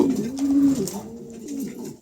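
A pair of pigeons coo in low, rolling phrases, one long swelling call followed by softer repeated coos close by, with no talk.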